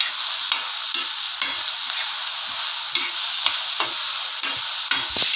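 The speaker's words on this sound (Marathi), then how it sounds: "थोडेसे तीळ घालायचे आणि परतवून घ्यायचं" Sesame seeds stir-fried in hot oil with tomato for a soybean curry masala give a steady close sizzle, punctuated by repeated scraping stirs of a spatula against the pan at a fairly regular pace.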